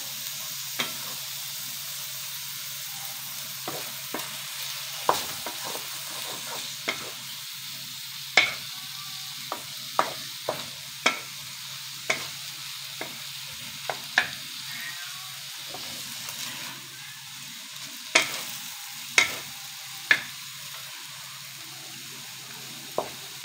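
Bitter melon stir-fried with ground pork and scrambled egg in a pan, a steady sizzle under repeated sharp scraping and clacking stirs with a spatula, close and alone.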